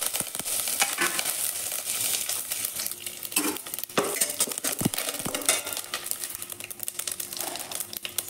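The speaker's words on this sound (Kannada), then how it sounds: "ಇವಾಗ ನೋಡಿ, ಎಣ್ಣೆ ಕಾದಿದೆ. ಎತ್ತಿಟ್ಕೊಂಡಿರೋ ಸಾಸಿವೆ, ಕರಿಬೇವು, ಜೀರಿಗೆ, ಅರಿಶಿನ ಪುಡಿ ಎಲ್ಲನೂ ಸೇರಿಸ್ಕೊಳ್ಳೋಣ." Mustard seeds, curry leaves, cumin and turmeric crackle and sizzle in hot oil, with irregular pops, a spoon stirring and scraping the pan, and occasional metallic clinks nearby.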